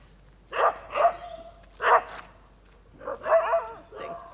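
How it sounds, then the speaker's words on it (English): Unrestrained community dogs in a remote area bark nearby, with three sharp barks followed after a pause by a longer, more whining bark and yelp, clear against a quiet background. "there's a load of unrestrained dogs that are looking quite menacing"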